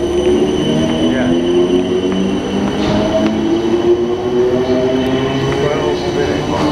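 A South Western Railway Class 455 electric train passes at Weybridge station, a loud continuous rumble of wheels and motors with drawn-out tonal whine throughout, with faint voices of people nearby.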